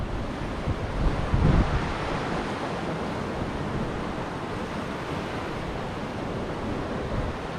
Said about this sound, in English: Let's listen to the sound of the ocean for a minute.